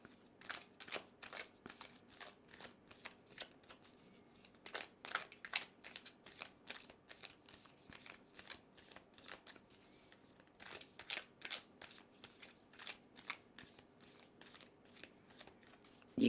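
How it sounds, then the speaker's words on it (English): Tarot cards are shuffled quietly and continuously, producing soft rapid riffling and flicking bursts with an irregular rhythm, close and faint, with no voices. "just while I'm shuffling"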